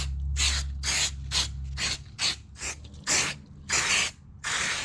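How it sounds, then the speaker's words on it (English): Lubricant spray hisses into a sliding patio door track in a series of about nine loud, close bursts of varying length, separated by short gaps. "we're gonna give this a healthy dose of spray right in the track"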